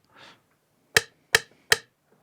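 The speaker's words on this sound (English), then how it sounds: "the next one is the rim, which is here" Three sharp rim shot hits from a Behringer RD-8 drum machine, evenly spaced and crisp with a short ringing click, preceded by a faint brief noise and otherwise alone.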